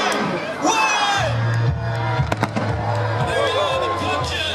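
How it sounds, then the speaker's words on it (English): Fireworks burst over Scarborough South Beach at a Christmas lights switch-on, sharp cracks and thuds popping in quick succession while a large crowd cheers and whoops loudly throughout. "And there are the fireworks, enjoy."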